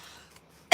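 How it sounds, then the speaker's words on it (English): A single loud, harsh burst of coughing from a person with a lingering cough at the very end, following a stretch of quiet background hiss. "I'm still coughing."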